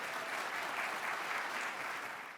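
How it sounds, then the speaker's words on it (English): An audience at an environmental conference opening ceremony applauds the color guard and herald trumpets, giving steady, dense clapping throughout that fades slightly at the end, heard from some distance. "Could we give a round of applause to the Color Guard and the Herald Trumpets,"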